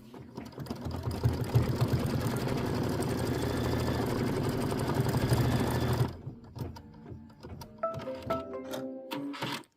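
An embroidery machine runs a placement stitch on green linen-like fabric for a quilted wall hanging, a steady close mechanical whir for about six seconds, then stops and gives way to scattered clicks and handling noises.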